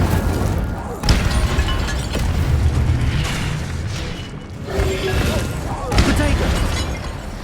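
Incendio fire spell cast in the Hogwarts Legacy video game, a loud sustained whooshing burst of magical fire with rumbling booms and crackles, mixed over game sounds throughout.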